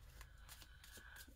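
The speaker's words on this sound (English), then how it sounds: "I'm just shuffling my little cards" A deck of cards is shuffled in several quick riffling bursts, close and soft, with no talking.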